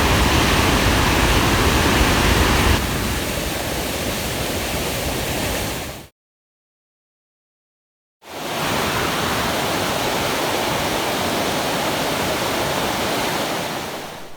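Au Sable waterfall at Pictured Rocks pouring about 20,000 gallons a second, a loud unbroken roar near at hand that cuts out to silence for two seconds and then resumes.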